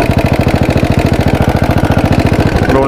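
A very rattly motorcycle engine running close by, a loud, rapid, regular thumping putter with metallic rattle, steady throughout and briefly shifting at the end.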